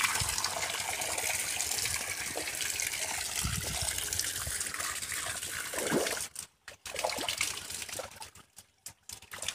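Water from a pump spout pours and trickles steadily into a field channel, a loud continuous gush that cuts off abruptly near the end, leaving brief silences and faint drips.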